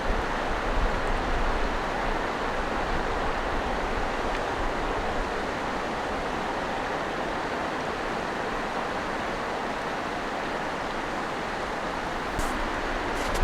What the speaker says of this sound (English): see if we can just get the sound of the river